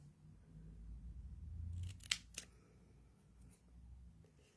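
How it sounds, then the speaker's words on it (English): Scissors trim paper for a scrapbook album spread, a couple of short crisp snips close by after soft paper rustling, faint and otherwise quiet. "I'm just going to trim that into there."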